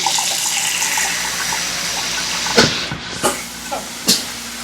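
A hot water tap runs in a home kitchen while banana-flower curry is being cooked, giving a steady close hiss of flowing water broken by a few sharp clinks and knocks.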